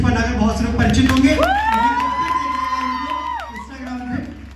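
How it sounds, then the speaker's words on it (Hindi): A loud crowd at a celebrity meet-up in Farrukhabad cheers and whoops, with a long rising shout held over the noisy roar, fading slightly toward the end. "जोरदार तालियां"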